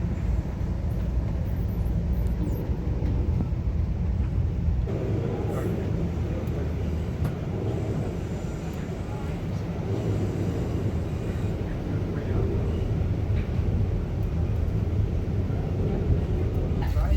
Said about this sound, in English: As the train drifts down the Sierras, it drops down into the Sacramento Valley